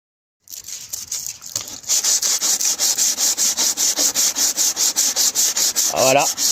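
Polyester body filler being sanded by hand on a Peugeot 207 bumper: close, steady rhythmic back-and-forth rasping strokes that continue evenly after a quieter start.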